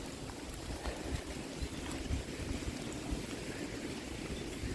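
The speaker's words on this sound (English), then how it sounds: "getting a bit breezy again" Steady outdoor wind gusts across a microphone on a cold, snowy day, a continuous rushing roar with small swells and no voices.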